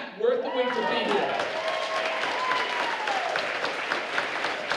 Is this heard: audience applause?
yes